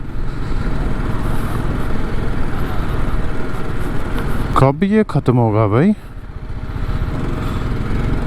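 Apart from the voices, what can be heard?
loaded motorcycle riding through mud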